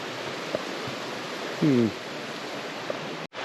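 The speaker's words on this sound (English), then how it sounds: "After some research, this is Sullivan Creek." Sullivan Creek flows at Pictured Rocks National Lakeshore, a steady broadband rush of water filling the whole stretch, with a brief tonal sound partway through.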